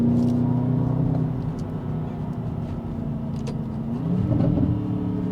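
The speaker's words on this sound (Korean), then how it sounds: "이 실내 공간을 그냥 가득 채워버립니다. 저 배기음으로." An Aston Martin DBX's exhaust note fills the cabin with a low, steady rumble that swells briefly near the end as the engine builds.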